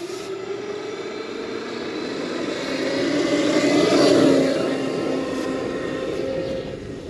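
A Traxxas Xmaxx RC car on Sledgehammer tires running on an 8s battery, its electric motor whining and rushing as it speeds past on a road, swelling louder mid-pass then easing off, with no talk.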